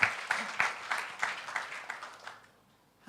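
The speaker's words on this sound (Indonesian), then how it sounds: "Tepuk tangan." A church congregation claps in a service sermon, with bursts of applause pulsing at a steady rhythm that fade out toward the end. Light voices sit underneath.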